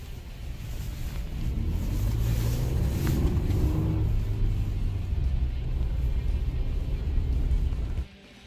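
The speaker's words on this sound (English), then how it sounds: "So as you can see, we just drove through this snowbank." A Ford Bronco rumbles low and steady as it drives through a snowbank, the engine droning throughout before fading at the very end.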